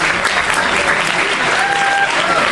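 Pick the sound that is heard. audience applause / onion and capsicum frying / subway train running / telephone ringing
audience applause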